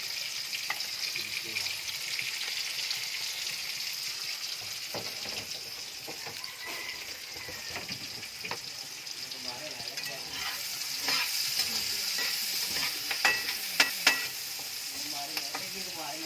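Garlic and spring onion sauté in a hot pan for kimchi fried rice, a steady broadband sizzle running throughout with a spatula stirring and scraping now and then, growing a little louder toward the end.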